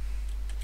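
A computer keyboard typed on while entering a value, giving a few short, close clicks over a steady low hum with no talking.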